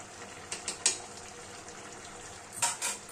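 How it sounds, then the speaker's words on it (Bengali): A spoon clinks and scrapes against a pan while ghee and garam masala are stirred into a simmering jackfruit curry, with a few brief metallic taps over a quiet bubbling background. "ঘি এবং গরম মশলা সমস্ত তরকারির সাথে ভালোভাবে মিলিয়ে মিশিয়ে নেব"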